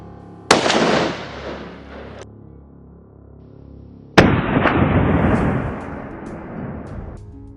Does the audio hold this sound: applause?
no